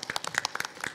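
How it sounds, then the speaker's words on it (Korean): Audience members at a forum give a brief, fairly faint round of applause, with distinct individual claps close together over about a second. "박수로 환영해 주십시오."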